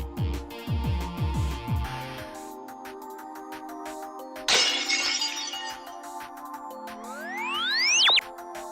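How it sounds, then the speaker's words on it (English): Cartoonish glass-shatter effect from the Homestuck webcomic: a sharp loud crash of breaking glass midway, between bouncy synthetic tones and a rising whistle-like sweep. "Roxy, break some glass."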